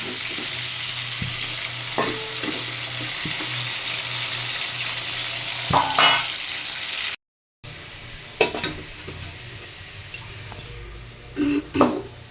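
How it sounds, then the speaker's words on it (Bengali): Potatoes fry in a pan with a steady loud sizzle while a utensil stirs them, scraping and clinking against the metal now and then; the frying briefly drops out midway, then resumes with more knocks and scrapes. "আলুগুলো দিয়ে দিব, দিয়ে ভালো করে ভেজে নেব"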